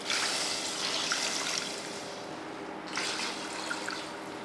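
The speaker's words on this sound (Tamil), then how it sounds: "இப்போ தண்ணி சேர்த்துடலாம்." Water is poured into a cooking pot of ground masala paste for a Bakrid non-veg feast dish, a close trickling pour in two bursts with a brief pause between.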